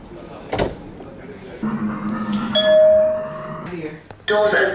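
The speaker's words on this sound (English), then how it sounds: "Doors opening." A train's doors slide open with an electronic chime, a rising ding tone and mechanical clunk over murmuring voices and cabin noise, followed by a bright bell signal near the end.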